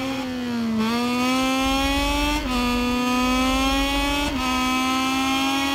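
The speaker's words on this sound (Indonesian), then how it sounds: "kita harus tancap gas sekencang mungkin" A Moto2 racing motorcycle screams at full throttle on Misano Circuit in a racing game, its high engine note climbing through three gears with short dips at each upshift, loud and close.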